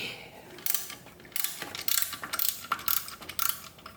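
Ratchet wrench loosening bolts, including a 9/16 size, on the power steering pump of a Jeep FSJ Cherokee Chief. Bursts of rapid clicking come close up and loud, in short repeated runs with brief pauses between them, and no talking.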